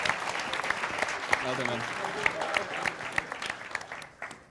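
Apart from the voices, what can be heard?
applause for game jam team Random Ramblers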